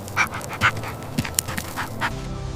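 A puppy pants while climbing a steep mountain trail, with quick, breathy bursts repeating at an uneven rhythm, fairly close and moderately loud.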